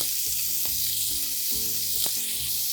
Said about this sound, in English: while the onions are cooking